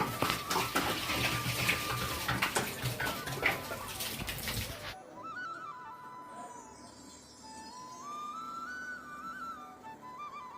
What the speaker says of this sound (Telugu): వాటర్ ఈ విధంగా పోతూ ఉంటుందండి